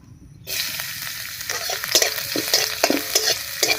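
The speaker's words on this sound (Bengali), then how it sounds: "এর মধ্যে দেব সামান্য একটু কালো জিরা, 2টো শুকনো লঙ্কা, একটু নাড়িয়ে নেব।" Chopped garlic, black cumin and two dried chillies hit hot oil with a sudden loud sizzle, then keep crackling while a spatula scrapes and stirs in short, uneven strokes.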